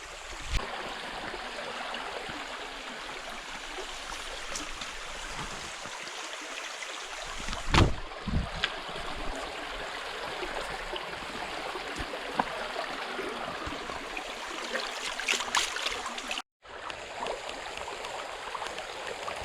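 A river flows at night, a steady, soft rush of water that stays even and fairly faint, with no voices.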